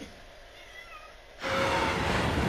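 A cat meowing, with a quieter stretch of drawn-out meow tones over background noise, then a sharp jump to a loud, noisy, continuous passage in the second half.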